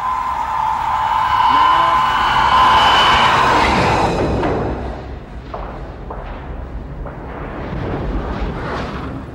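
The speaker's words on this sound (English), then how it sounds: "Torpedo impact." A torpedo strikes in the submarine film The Hunt for Red October, a loud, deep booming impact and rumble that swells, then fades into softer scattered thuds and muffled noise.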